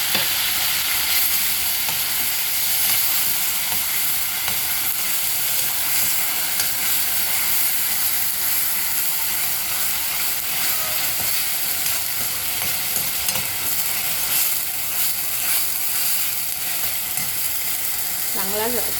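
Onion paste sizzles steadily in hot oil with cumin seeds while being stirred for a chole masala, a dense continuous frying hiss with scraping stir sounds throughout, close and fairly loud.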